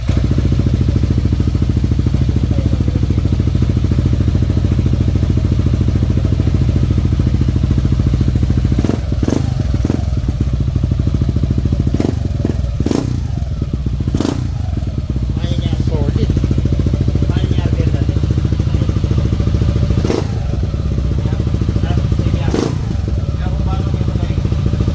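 A Yamaha Aerox 185cc scooter engine tuned with an Aracer Mini X ECU runs loud and steady at close range, its low rumble continuous with a few sharp thuds, while people talk over it.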